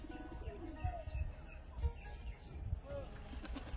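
Pigeons coo softly in the background, several low murmuring calls spread across the clip. A faint chirp joins them and handling noise sits close by, with no clear speech.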